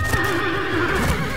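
Horses neigh in the Western video game Colt Canyon, a loud, wavering whinny that runs throughout with faint hoof clatter underneath.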